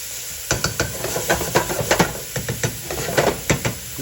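Garlic sizzling in a pot and being stirred by hand for a turkey noodle soup, with a steady frying hiss under quick scraping strokes that come in an uneven rhythm, close up.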